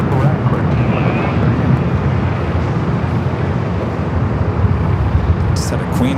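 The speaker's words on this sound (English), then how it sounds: "JetBlue heading to JFK, flight 524." A JetBlue Airbus A321 jet airliner departs Los Angeles airport for JFK with a steady, broad, close roar that holds evenly throughout, with a little wind buffeting.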